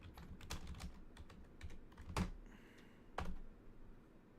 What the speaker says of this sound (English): Type in your URL.